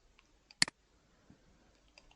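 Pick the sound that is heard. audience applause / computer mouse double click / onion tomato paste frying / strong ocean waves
computer mouse double click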